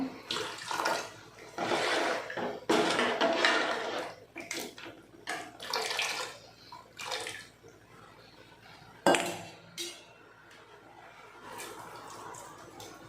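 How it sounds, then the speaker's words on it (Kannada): Water poured into a bowl while mixing rice roti dough in a Mangalorean home kitchen, heard as uneven splashing and trickling bursts with a few louder sloshes, close and fairly loud, with no talk. "ಒಂಚೂರು ನೀರು ಪಾಡೊಂದುಲ್ಲೆ"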